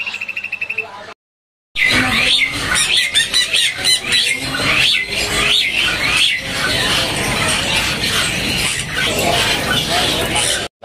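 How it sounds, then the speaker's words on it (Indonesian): A Hong Kong myna sings loudly up close in a busy bird-market setting, giving repeated squawking, whistling phrases over a dense chatter of other birds after a short silent gap. "ini untuk jalak Hongkong speknya gacoran ya, udah manggut-manggut ya."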